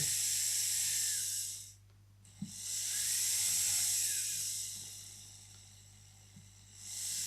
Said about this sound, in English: you just got to finish it off with a soft bristle brush and some light Tripoli